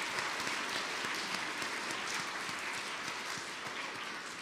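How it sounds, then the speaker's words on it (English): A chapel congregation gives a long, full round of applause at a Christmas service, thick and continuous and only slightly fading toward the end. "who I think gets one more huge round of applause"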